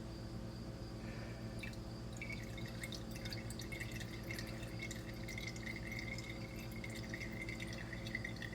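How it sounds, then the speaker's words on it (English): Water trickles and drips from a lifted bag of steeped cold brew coffee grounds, a quiet, steady patter of drops falling back into the liquid below. "So you just lift it up, let some of the water drain out."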